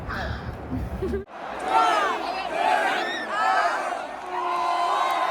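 A crowd of sports fans cheers and chants in a packed stadium, with loud sustained shouting and whooping voices rising in waves after a brief cut from other sound.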